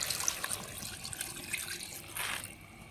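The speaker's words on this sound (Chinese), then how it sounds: "加入适量清水。" Water poured into a wok of blanched loaches frying in chili bean paste red oil: a faint, splashy trickle and patter that keeps up briefly, then swells into a short gush near the end.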